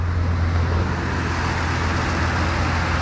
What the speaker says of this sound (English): It does have a bit of an exhaust leak, which you can probably hear.